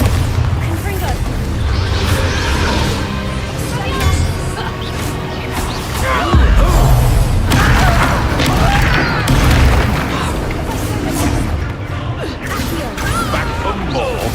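Spell blasts and booming explosions from a Hogwarts Legacy duel, dense and loud, with repeated bursts and crackling impacts layered over game music and voices talking throughout.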